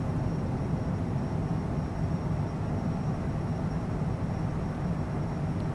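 Airliner engines at climb thrust after takeoff in Microsoft Flight Simulator 2020, on a flight from Birmingham to Edinburgh: a steady, loud, broadband roar with a deep low rumble, unbroken throughout.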